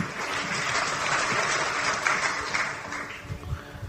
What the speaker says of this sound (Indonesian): tepuk tangan saudaraku